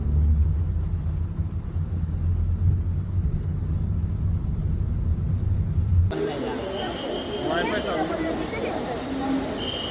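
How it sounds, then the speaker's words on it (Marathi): A vehicle engine rumbles low and steady while driving, heard from inside, with voices talking over it before the sound shifts partway through. "ही आमची गाडी आहे"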